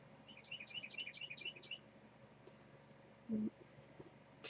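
A bird's quick run of high chirps outside an open window rises behind a quiet room tone, followed by a brief low thump.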